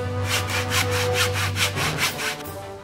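A hand saw cuts through wood in steady back-and-forth strokes, about a dozen rhythmic rasps, close and loud, with a low hum underneath.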